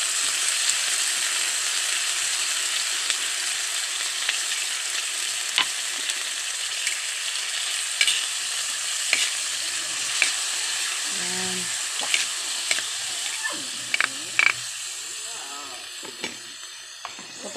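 Corned sardines fry in a pan with a continuous loud sizzle, broken by scraping stirs and a few small clinks, while a voice speaks briefly over it.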